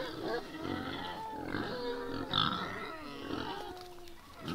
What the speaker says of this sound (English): So the pigs are up here.